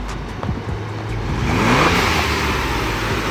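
Ford Bronco fitted with a blow-off valve, heard from outside while it drives around: engine revs climb steadily with a rising whine and turbo whoosh, close and fairly loud, no talking.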